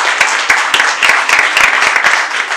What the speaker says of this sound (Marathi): एकदा जोरदार टाळ्या वाजवून परमेश्वराला गौरव